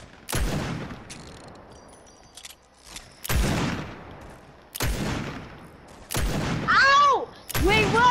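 Gunfire in the Fortnite video game: several sharp, loud shots in separate bursts spaced over several seconds, with brief high-pitched effects and some voice between them.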